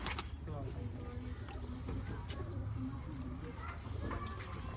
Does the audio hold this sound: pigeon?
yes